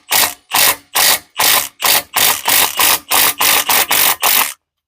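Rapid ratchet wrench clicks loosening a nut on a stud during a car build, twelve loud, evenly spaced bursts of ratcheting close up with no talk.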